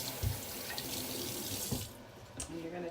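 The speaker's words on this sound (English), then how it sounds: "give it a rinse" Vegetables such as carrots, beets and onions being rinsed under a running kitchen tap for fermenting, a steady faint gush of water with a few soft knocks and splashes, no voices.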